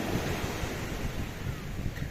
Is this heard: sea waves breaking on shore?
yes